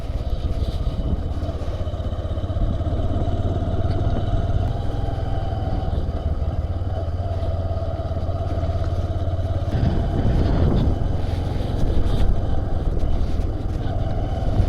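A motorcycle rides along a mountain road in Uttarakhand, its engine giving a steady, loud low drone with wind noise throughout, a brief swell of passing noise near the middle, no talking.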